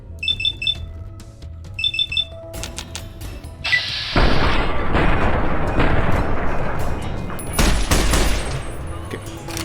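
Gunfire in the video game Fallout: New Vegas: after a few quiet seconds with soft beeping tones, a loud burst of rapid shots erupts and continues as a dense volley with a second surge near the end.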